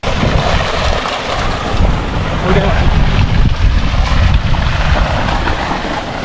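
A fountain aerator running in a fish farm pond for prawns, a continuous loud rushing and splashing of water close by, steady throughout with a brief voice calling out over it.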